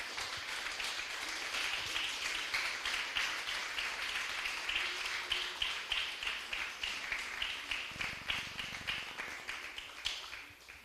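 A church congregation applauds steadily for about eleven seconds, a dense wash of clapping with a faintly audible rhythmic tapping running through it, moderately loud and sustained without breaks.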